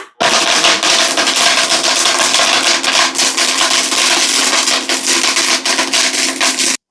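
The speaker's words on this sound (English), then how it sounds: "All right, so let's get the blender." A blender runs steadily, loud and close, grinding dried ashwagandha roots into powder, a continuous whirring grind with rattling chunks for several seconds.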